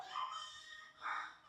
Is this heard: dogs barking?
yes